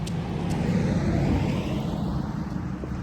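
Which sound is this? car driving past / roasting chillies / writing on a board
car driving past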